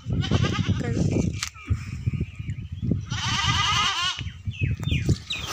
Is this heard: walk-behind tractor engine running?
no